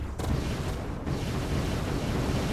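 Explosions in a sci-fi survival video game sound as a dense, continuous roaring rumble with a sharp burst at the start and another around one second, broadband and loud without any speech.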